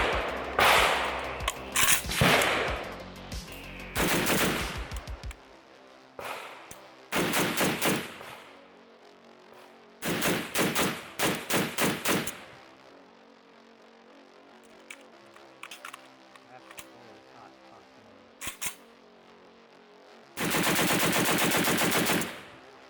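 A Zastava ZPAP M92 rifle fires outdoors in repeated bursts and single shots, sharp loud cracks spread across the span with pauses between strings of fire.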